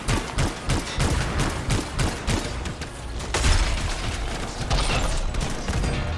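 Gunfire in the Anthem video game hammers away in loud, rapid bursts that run almost without pause, with heavier blasts mixed into the steady barrage and no talking.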